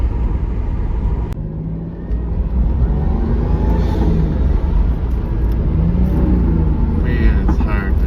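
Stock JDM Toyota Supra with a twin-turbo engine and six-speed manual, heard from inside while driving: a steady low engine and road rumble throughout, with slight rises in revs.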